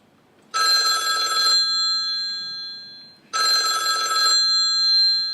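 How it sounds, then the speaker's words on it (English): A mobile phone ringtone sounds in two loud, bright electronic bursts about a second long each, separated by a pause, clear and close with no other sound. "as soon as you pick up your phone, the ringer is diminished in volume"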